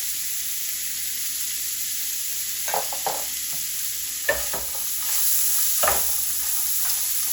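Onion, celery and red pepper sizzle in a pot for jambalaya, a steady soft frying hiss broken by a few scraping stirs of a spoon, with no talking.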